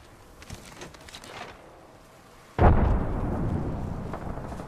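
A grenade explosion in a shooter game: a sudden heavy boom partway through that rolls into a lingering rumble, following quieter gameplay noise.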